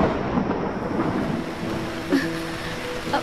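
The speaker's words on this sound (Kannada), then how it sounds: "ಮಳೆ ಬರ್ತಾ ಇದೆ." Thunder rumbles over steady rain in a thunderstorm scene from a Kannada film, a soft continuous wash of rainfall with low rolling booms and no speech.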